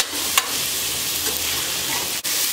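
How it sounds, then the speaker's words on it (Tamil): Chopped carrots lightly sautéing in a pan, a close, steady sizzle with a couple of quick stirring knocks over its short span. "இந்த கட் பண்ணி வச்ச கேரட்டை போட்டு கொஞ்சம் லேசாக வதக்கினா"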